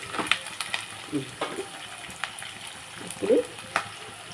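Moong dal and cumin seeds frying in a pan, a steady soft sizzle with occasional light stirring scrapes and crackles, close and fairly quiet with no talking.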